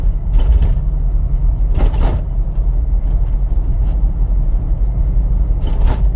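A 2003 Chevy Tahoe with a shifting fault driving along, a loud steady low engine and road rumble heard from inside the cabin, with a few brief clunks and rattles.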